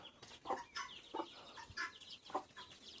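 Short, high chirping peeps from a chick, several in a loose irregular series, close by with quiet background noise.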